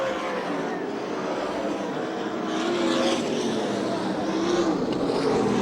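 Sprint cars, USAC National and CRA machines, racing nearly three wide into a turn on the Phoenix oval, a steady loud engine roar swelling slightly midway, with crowd and track noise blended in.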